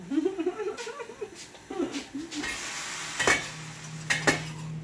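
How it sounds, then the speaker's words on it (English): A stir fry is turned in a pan at suppertime, soft sizzling under light scrapes and a couple of sharp metallic taps, with a voice murmuring briefly at the start. "I'm stirring the stir fry a little bit"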